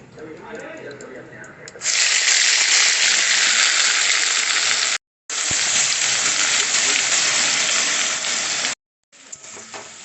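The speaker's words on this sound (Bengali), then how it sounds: "একটু ছিট কাটছে, যেহেতু পেঁয়াজ বাটা দেওয়া আছে" Onion and green chilli paste hits hot mustard oil with a loud, sudden hissing sizzle and spatter that runs steadily, cuts out briefly twice, and starts again, close up, after some quieter kitchen sounds.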